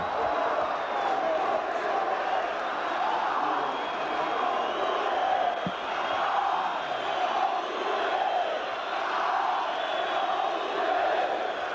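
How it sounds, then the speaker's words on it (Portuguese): A large football stadium crowd at a 1999 Brazilian championship derby between Palmeiras and Corinthians reacts to a substitution with a dense, continuous roar of mixed cheering and jeering, loud and steady throughout with no talk. "Aplaudido pela torcida do Palmeiras, vaiado pela torcida do Corinthians."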